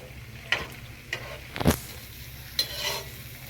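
Chicken keema vada pav, the final batch, frying in hot oil, with a steady low sizzle broken by a few sharp spoon clinks and stirring scrapes, one louder burst near the middle; no voices.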